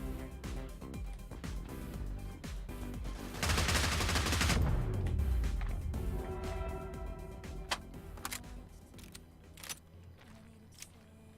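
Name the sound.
gunfire from the fun gun in the video game Get Even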